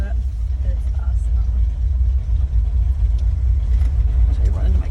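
A Ford Bronco driving along, its engine and road noise forming a loud, steady low rumble throughout, with faint cabin sounds over it.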